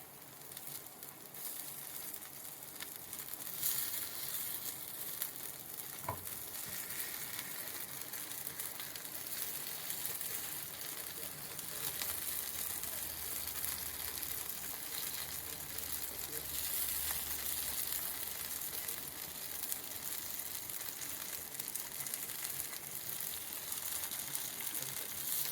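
Sorghum kuzhi paniyaram cooking in a paniyaram pan on a medium flame gives a soft, steady, continuous sizzle that stays fairly faint throughout, with occasional voices in the background.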